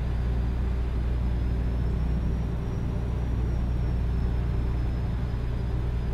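A DAF XG truck drives in Euro Truck Simulator 2, a steady low engine and road rumble with a faint rising whine, loud, continuous and unchanging, with no voices.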